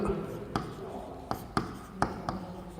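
Chalk tapping and scraping on a blackboard during a chemistry lecture on orbital energy levels, a few short sharp strokes spaced irregularly, with a teacher's voice faintly in the background.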